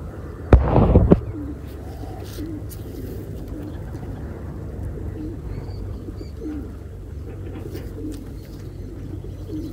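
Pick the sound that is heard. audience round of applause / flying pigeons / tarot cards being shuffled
flying pigeons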